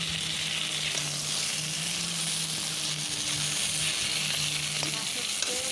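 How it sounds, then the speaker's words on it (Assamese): Fish heads fry in oil, a dense continuous hissing sizzle that stays loud and close throughout, with a faint low hum underneath and no voices. "মাথাখিনি ভাজি ল'লোঁ।"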